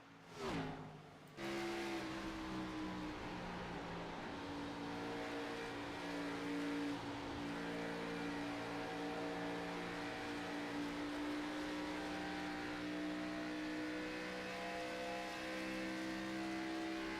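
Race cars roar around Kansas in a sim racing game, a steady loud multi-car engine drone with sustained high revving tones and no voices.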